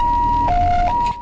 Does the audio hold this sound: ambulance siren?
yes